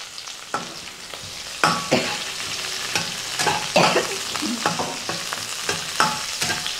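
Sliced onion and green chillies with salt sizzle in a hot pan alongside crushed garlic and ginger, close and steady, while a spoon scrapes and stirs them in repeated strokes.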